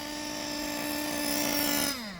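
A nitro RC engine held at half throttle while breaking in on its second tank of fuel, run rich. It gives a steady, loud, high-pitched whine with strong harmonics, then drops in pitch near the end as the throttle eases off.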